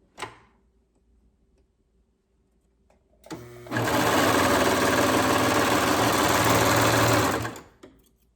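A sewing machine stitches the inseam of a garment with right sides of the fabric together, a loud, fast, even mechanical whirr running for about four seconds after a quiet lead-in, then stopping.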